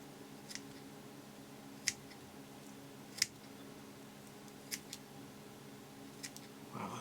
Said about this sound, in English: Using my TMCO curved scissors, they're the finest point scissors I think I have.